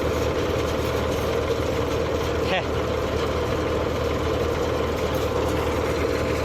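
A paddy threshing machine runs in fourth gear with a loud, steady, tractor-like engine drone and a constant mechanical rumble that never lets up.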